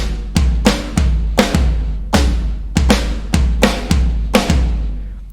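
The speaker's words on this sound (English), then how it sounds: "There's the 5/4 polyrhythm." Drum kit playing a 5/4 polyrhythm, fives on the floor tom against fours, for a song lesson; loud, evenly spaced tom and cymbal strikes repeat steadily with no talking.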